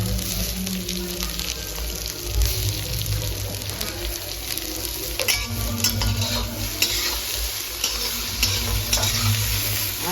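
Cabbage, capsicum and tomato stir-frying in a pan for veg hakka noodles, a steady close sizzle with repeated scraping and stirring strokes throughout, no voices.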